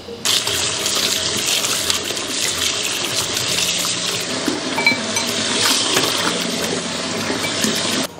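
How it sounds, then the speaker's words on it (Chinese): Warm tap water runs steadily over pigeon meat as it is rinsed for a soup. A continuous loud gushing stream plays alone for the whole stretch. "清洗的时候要准备这种稍微热一点的水清洗"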